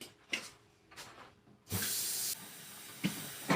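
A tap runs in a steady hissing stream for under a second, close by, with clunks and handling noises before and after.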